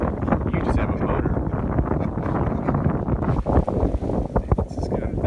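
Steady wind of about 10 to 15 knots buffets a sailboat under both sails, a loud, gusty roar against the microphone with faint talk underneath.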